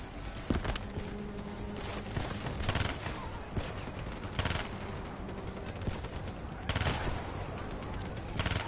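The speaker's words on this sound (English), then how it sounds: "Another gun. I do not like this weapon." Dense bursts of gunfire crackle in rapid volleys, with several loud clusters of shots spread across a noisy, busy background.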